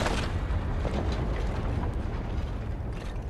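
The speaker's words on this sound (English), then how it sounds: "What an explosion! It's 300 kilos of explosives in that trunk!" A car trunk packed with 300 kilos of explosives going off in Wolfenstein: The New Order, a loud, rumbling blast wash with heavy low roar and debris sustained throughout, no talk.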